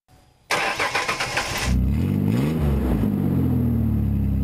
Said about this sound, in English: The loud sound comes from his truck, and it lets him know yet another catalytic converter has been sawed off